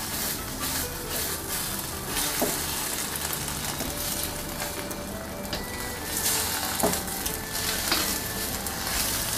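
Eggs fry in hot oil in a pan, a steady close sizzle and hiss throughout with faint scraping stirs of a utensil and no talk.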